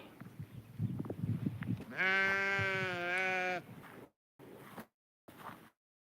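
A single loud, wavering sheep bleat rings out up close for about two seconds, followed by a few short bursts of rustling noise.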